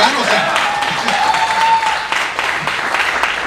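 An audience breaks into applause, a dense wash of clapping heard at close range and lasting throughout, with a voice speaking over it.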